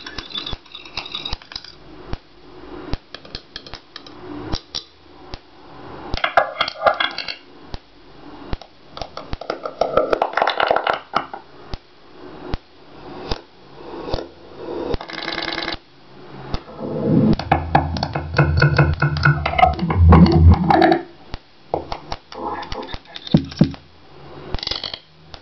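Microphone feedback from a mic held to a speaker, chopped up by stutter editing in Max/MSP: choppy bursts of ringing, metallic, glitchy tones in rapid repeated fragments with gaps, building to a denser, louder stretch near the end, with no voices.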